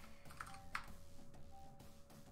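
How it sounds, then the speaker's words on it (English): Faint clicks of typing on a computer keyboard, a few soft taps spread over a couple of seconds under a low steady background hum. "My keyboard, dude."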